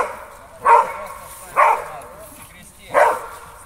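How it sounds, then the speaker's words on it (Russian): A dog barks three times at irregular intervals during a Mondioring correction competition, each bark loud and close, with quiet pauses between them. "Работа с собакой."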